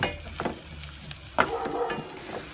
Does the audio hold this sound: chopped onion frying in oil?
yes